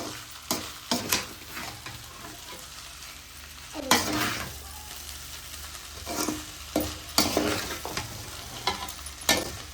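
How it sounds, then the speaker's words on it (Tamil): Egg fried rice stir-fried over a high flame, with repeated bursts of spatula scraping and tossing against a pan over a steady sizzle, close and fairly loud. "நல்லா அடுப்பை ஹை ஃப்ளேம்ல வச்சு அப்படியே பெரட்டி விட்டோம்னா சூப்பரா அப்படியே ரெடி ஆயிருங்க."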